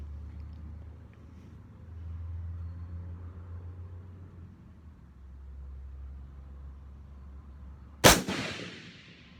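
A single sharp AR-15 rifle shot at a gun club range, a loud crack with a short decaying tail near the end, after several seconds of low rumbling background.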